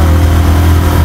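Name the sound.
motorbike engine while riding in Kathmandu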